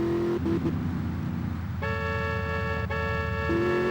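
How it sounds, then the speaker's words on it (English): A car horn honks in the video game GTA Vice City, sounding in two sustained blasts over a steady engine rumble. The horn is close and loud. "he's found the horn on the car"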